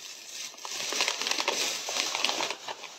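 Walnuts dropped into a red plastic bag, producing a close, busy run of crinkling and rustling plastic with small knocking clicks, steady for a few seconds without talk.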